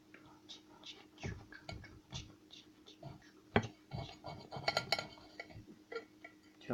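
Knife cutting through the middle of a homemade burger with samurai sauce: faint, soft scraping and small clinks against a plate in an irregular series, close and quiet, with a low murmur of voices.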